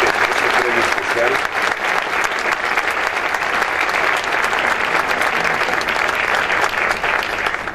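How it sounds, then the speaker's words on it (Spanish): Loud, sustained audience applause at an environmental cooperation award ceremony honoring a special prize, dense continuous clapping from a large crowd with a few voices mixed in underneath. "Creo que merece un aplauso muy fuerte por este premio especial."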